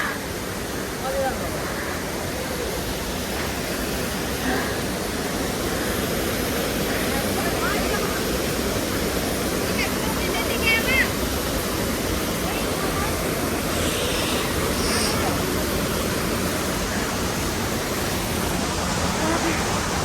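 The Khulung waterfall rushes with a loud, constant broadband roar of falling water, steady and close for the whole stretch, with no break and only faint traces of other sound.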